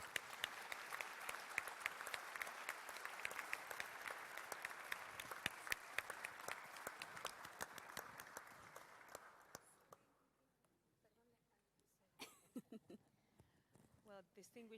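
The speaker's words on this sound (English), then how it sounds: "So may we give her a round of applause to welcome her up onto stage." A conference audience at a thematic panel session applauds to welcome a speaker onto the stage, with dense, steady clapping for about ten seconds that fades out, and then a voice starts speaking.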